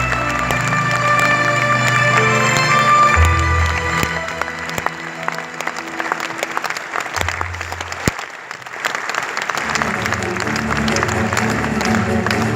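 Audience applause at a charity foundation evening, dense sustained clapping from a large crowd with some cheering, filling the hall for the full stretch and easing slightly midway before picking up again.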